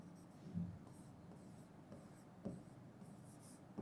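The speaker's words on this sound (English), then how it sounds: "I'll just write it here in one line." A teacher writes a line on a classroom board during a chemistry lesson, making faint, steady scratching strokes with a couple of slightly sharper taps, and no voice is heard.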